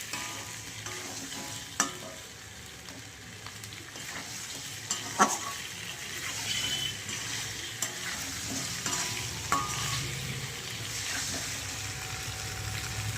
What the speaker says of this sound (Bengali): এখন আমি আলু ডিম দিয়ে একটুখানি নাড়িয়ে চাড়িয়ে জল দিয়ে দেবো